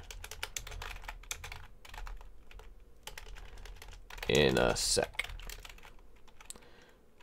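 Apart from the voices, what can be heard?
loud computer keyboard typing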